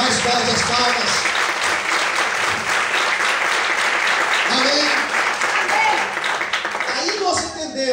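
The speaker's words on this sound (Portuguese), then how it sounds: "Mais forte as palmas." A congregation inside a church claps hard and continuously, a full, loud wall of applause that barely wavers, with faint voices underneath and a slight dip near the end.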